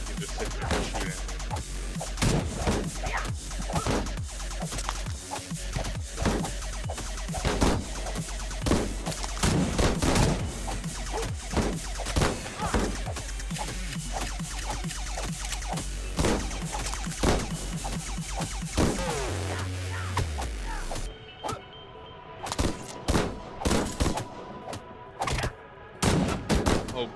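Enemy gunfire in Madness: Project Nexus arena combat, a long, dense stream of rapid shots and impacts throughout, with a low hum cutting out near the end before scattered final bursts.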